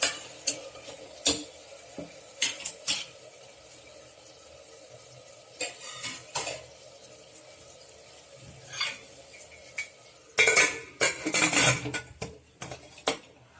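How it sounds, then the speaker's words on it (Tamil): Tomatoes for veg biryani cooking in a pan, with scattered metallic clinks and scrapes of a spoon against the pan in irregular clusters, a soft sizzle underneath, and louder stirring bursts toward the end. "இந்த தக்காளி நல்லா வதங்கட்டும்"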